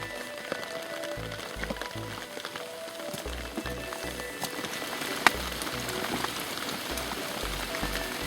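Rain falling in a forest in Hoosier National Forest, a steady close patter of drops on leaves and ground, with some brief low-pitched knocks and soft voices underneath.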